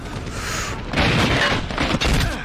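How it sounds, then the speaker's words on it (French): A grenade blast in the shooter Medal of Honor Warfighter, a loud close boom followed by rumbling debris and crackling combat noise. "Oh merde, une grenade sur nous!"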